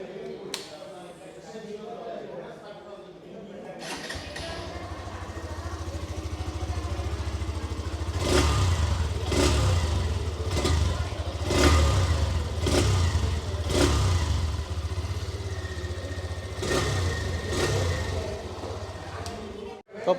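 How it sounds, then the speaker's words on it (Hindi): A Hero Xtreme 125R ABS single-seat motorcycle idles, then its engine and exhaust rev repeatedly in sharp bursts, close and loud, with someone talking over part of it. "अब पहले आपको इसके इंजन और एग्जॉस्ट के यहाँ पर साउंड को मैं आपको चेकआउट करा देता हूँ।"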